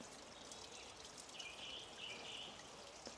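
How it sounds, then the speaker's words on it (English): A small waterfall in Ervey Woods trickles and splashes steadily at close range, a soft continuous wash with faint bird chirps above it. "that's a lovely wee waterfall there, and nobody sees it"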